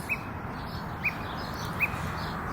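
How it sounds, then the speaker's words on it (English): Birds chirping outdoors in the early morning, three short, clear tweets spaced about a second apart over a steady low background hum. "Sorry about all the birds"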